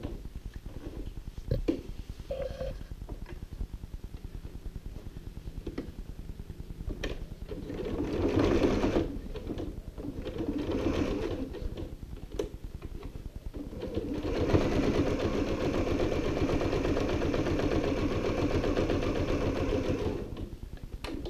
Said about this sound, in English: I'm going to stitch to the end and then lift up the foot, keep the needle in the down position, and pivot